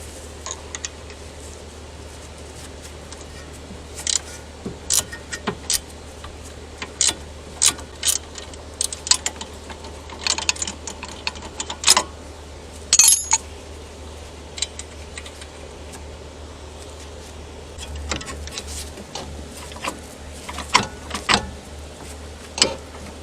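A socket ratchet works a ball joint nut loose on a Porsche Boxster wheel upright, sounding as close bursts of clicking and metallic rattling spread over a low steady hum.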